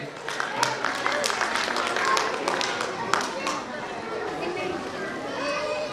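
An audience at a play-way school's annual function applauds to welcome a parent guest, with children's voices chattering throughout. Scattered claps come in short bursts of moderate loudness and thin out toward the end.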